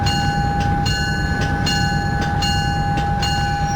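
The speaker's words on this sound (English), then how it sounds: "bring the train to a stop here" An Acela Express train braking to a stop in the OpenRails train simulator, a steady rumbling roll under a constant high tonal whine, with rhythmic clicks of wheels over rail joints slowing at even intervals.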